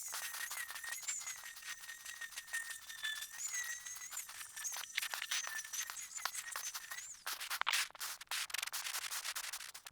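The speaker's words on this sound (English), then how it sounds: "So I'm going to grind this back now." A power grinder strips old paint off a fiberglass boat flybridge during restoration, a steady abrasive whine with squealing tones running nearly ten seconds, close and loud, with rougher scraping bursts near the end.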